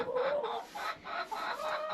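Chickens cluck steadily and close by, several hens overlapping in a busy, continuous chatter.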